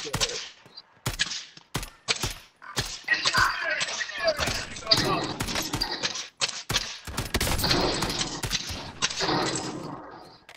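Dense bursts of gunfire from Call of Duty: Warzone, loud sharp cracks and rapid volleys crowding the scene, with players talking over the shooting.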